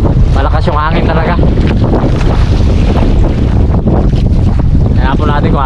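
Strong wind at sea on a small fishing boat, a loud constant buffeting roar across the microphone with water and hull noise beneath, while someone talks over it at several points.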